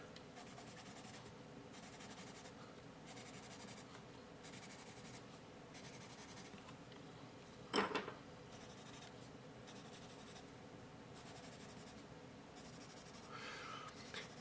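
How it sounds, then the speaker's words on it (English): An HB #2 graphite pencil scratching across paper in repeated bursts of strokes with short pauses between, quiet and close, with one sharper tap partway through. "The Black Warrior is a little louder in the scratchiness, so that's clearly it's got a little more resistance when I write with it."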